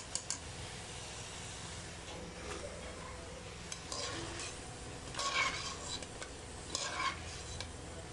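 Potato finger chips frying in hot oil in a home kitchen, a steady low sizzle with scattered clinks and stirring scrapes of a utensil against the pan, fairly quiet and close.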